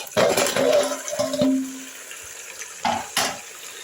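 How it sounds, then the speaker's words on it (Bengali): Marinated chicken tipped into a pan of frying vegetables and spices, a sudden burst of sizzling with a couple of clattering knocks, then quieter crackle and another short scrape near the end. "এর মধ্যে চিকেনটা দিয়ে দিচ্ছি।"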